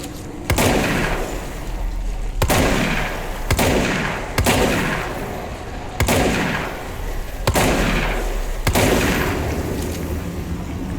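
Heavy gunfire in the video game Control, loud booming bursts repeating every second or two with ringing tails between shots.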